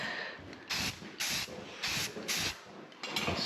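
Bursts of a paint spray gun hiss in repeated half-second blasts, laying black paint onto a steel dump truck bed, close and steady with short gaps between passes.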